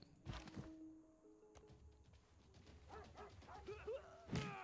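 A small dog in the video game Civilization VI gives short yips and barks amid game sound effects and music, the barking moderately close and intermittent before a louder burst at the end.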